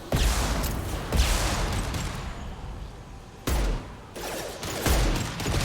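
Gunfire in the video game Mass Effect 2, loud bursts of shots and fusillades in a combat scene, with sharp onsets around one, three and a half, four and five seconds amid ongoing battle noise.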